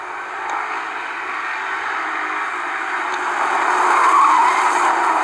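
A pack of race cars roars around an oval track during a 50-lap race, a continuous dense engine drone with tire noise that swells slightly louder toward the end, with no voices.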